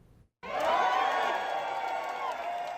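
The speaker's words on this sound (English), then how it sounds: "In Bal Harbor, crowds are cheering for Governor Ron DeSantis" A crowd in Bal Harbor cheering for Florida Governor Ron DeSantis during the 2022 election campaign, a sustained loud roar of shouts and whoops that begins abruptly after a short gap and carries on steadily.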